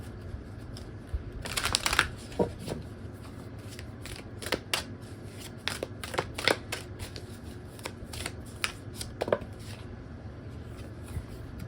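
Akashic Tarot cards being shuffled by hand, with repeated crisp riffling bursts and soft card slaps spread across the clip, close and moderately loud, no talking.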